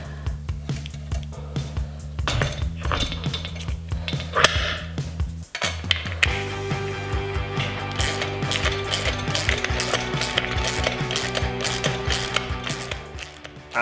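Close metallic ratcheting and clinking keep going as nuts are tightened to fix the wheels onto a Kobalt KT10152 portable table saw. The clatter turns denser and more rapid in the second half, and nobody speaks.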